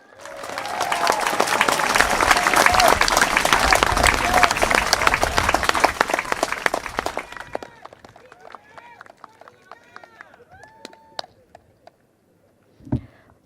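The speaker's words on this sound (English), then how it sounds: "One more round of applause for Dr." Audience at a Singapore political rally for the 2025 general election claps in a dense, loud round of applause that fades after about seven seconds into scattered claps and a few voices.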